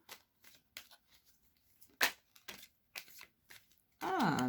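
Tarot cards being shuffled and drawn during a reading, a series of short close riffling and snapping card sounds ending in a louder sustained flurry of shuffling, with no talk.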